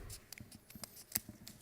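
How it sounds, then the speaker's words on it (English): Scissors snip through paper to cut a round cone shape, a quick series of soft, crisp close clicks and snips at low volume. "You take your pairs of scissors and now you cut it in a round shape."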